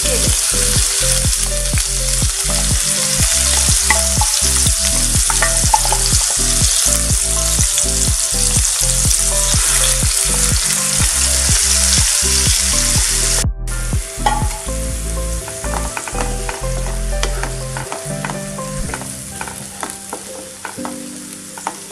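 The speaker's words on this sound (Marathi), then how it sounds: "हे थोडं भाजून घ्यायचं। तर ह्या कांद्याला सोनेरी रंग येईपर्यंत भाजून घ्यायचे।" Finely chopped onion paste roasting in a pan for pav bhaji until golden, a loud continuous close sizzle with regular scraping stirs of a spatula throughout.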